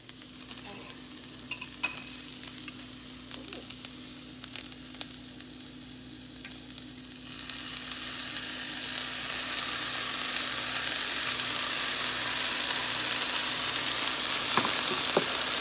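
Garlic and vegetables browning in a pan, soft stirring and scraping at first, then a steady bright sizzle that grows louder and fills the rest of the clip, with no voices.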